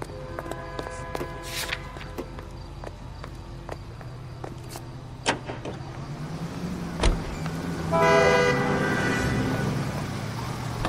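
A car rolls along in the video game L.A. Noire, a low steady engine hum under scattered clicks and taps, with a brief thump near the middle and a louder rising engine surge toward the end.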